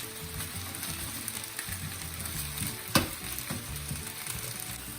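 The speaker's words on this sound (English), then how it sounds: "Okay, let's mix that in." Biryani masala for a no-oil chicken biryani is mixed in a frying pan, giving a faint, steady sizzle with soft scraping stirs and one sharper knock against the pan.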